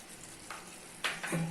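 Eggs with masala and garam masala being stirred in a frying pan, a soft steady sizzle with a few scraping stir sounds near the end.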